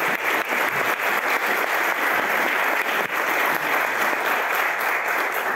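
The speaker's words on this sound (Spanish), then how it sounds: "Me honran sus aplausos, de verdad." After a lecture on twentieth-century European violence, an audience applauds. The clapping is dense and steady, loud and unbroken, and lasts the whole time without speech.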